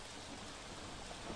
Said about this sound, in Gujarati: ખીજડીયા ગામમાં પણ વરસાદી ઝાપટું